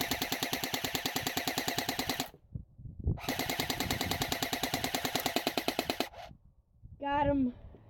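A gun test-fired on full auto: two long, loud, rapid bursts of close gunfire separated by a brief pause, followed by a short voice at the end.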